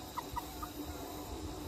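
Cornish cross chickens raised on fresh grass give a few soft clucks early on, faint and close, over a quiet outdoor background.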